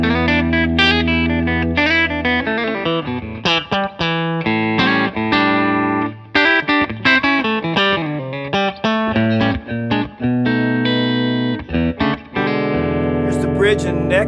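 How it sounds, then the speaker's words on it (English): Electric guitar on a T-style body with a Voodoo TE-62 bridge pickup, heard alone playing a busy run of picked notes and chords, bright and slightly driven, loud and close with ringing sustain. "And the bridge pickup sounds like this."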